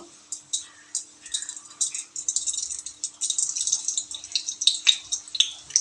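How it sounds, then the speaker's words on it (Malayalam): Sharp little pops and crackles of fenugreek seeds spluttering in hot oil, rapid and irregular, growing busier toward the end with no voices. "ഉലുവ പൊട്ടുന്നു."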